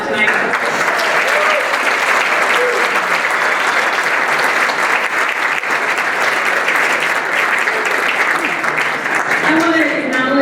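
A large crowd at the 2023 Leadership Medina County graduation gives graduates a sustained, loud round of applause. The clapping is steady and dense, with voices mixed in throughout.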